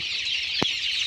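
A single short cluck from young chickens on a poultry farm, heard once, briefly, over a steady background hiss.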